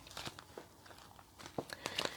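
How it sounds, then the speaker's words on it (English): Tarot cards being shuffled back into the deck: quiet, close riffling and papery flicks in short bursts, with soft crinkly clicks of the cards, no talking. "Just going to give it another shuffle since I've put them back in."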